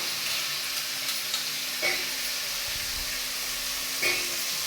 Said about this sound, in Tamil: இப்போ இந்த உருளைக்கிழங்க பார்த்தீங்கன்னா இந்த இஞ்சி பூண்டு வதங்கிட்டு அதிலே சேர்த்துக்கலாம்